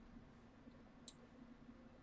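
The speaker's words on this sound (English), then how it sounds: "I'm sorry if I'm clicking really loud." A computer mouse gives two sharp, isolated clicks about a second apart during play of the puzzle game The Room 2, heard close and alone over a faint steady hum.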